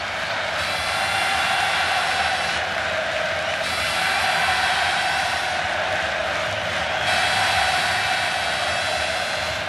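A vast football crowd roars continuously at the Maracanã during the 2008 Libertadores final between Fluminense and LDU, a dense, loud wall of cheering that swells and dips slightly throughout.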